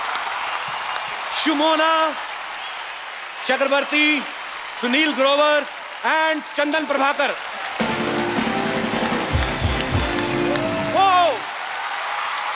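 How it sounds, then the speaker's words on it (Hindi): A studio audience at The Kapil Sharma Show welcomes the comedy cast. A voice announces first, then loud, dense clapping swells for several seconds before tapering off. "आपकी जोरदार तालियों के बीच स्वागत करना चाहता हूं"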